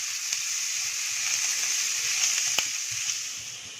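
Curry leaves with onion, crushed garlic and ginger sizzling in hot oil, a steady close hiss with a few sharp crackles and pops scattered through it.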